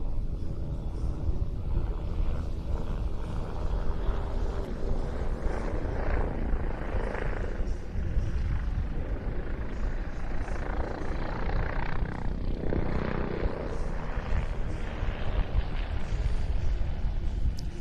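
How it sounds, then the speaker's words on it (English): A Bolkow Bo105 helicopter flies continuously at an airshow, its rotor thudding and engine droning steadily at moderate volume throughout, with no voices. "This, a quite remarkable helicopter designed in Germany in the 1960s"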